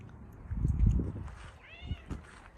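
A cat gives a short, soft meow near the end, following some low rustling and handling noises close by.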